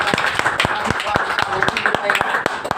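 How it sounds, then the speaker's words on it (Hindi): An audience at a Hindi poetry and literary gathering claps steadily, with sharp, evenly spaced hand claps over a continuous crowd murmur throughout. "और लंबी हो तो जरा ताली बजा"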